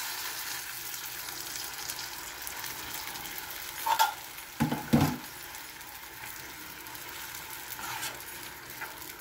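Marinated chicken in a hot pan for creamy chicken with cheese, a soft continuous sizzle with a few louder stirring clatters in the middle.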